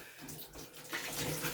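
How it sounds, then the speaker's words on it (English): Running water rinses dirt from old moldy boots in a shower, a steady close spray that grows louder midway, with no voices. "Then you're gonna rinse it back off."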